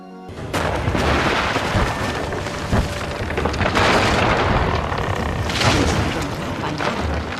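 A bomb detonates and blows up a ship in the video game Guild Wars 2, with a loud, sustained rumbling boom that rolls on for several seconds and a second surge near the end.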